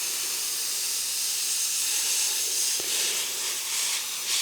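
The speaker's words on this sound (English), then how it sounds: "So might get a bit noisy now with the airbrush coming on" Airbrush steadily spraying water effects onto a model railway layout, a continuous close hiss with no voices.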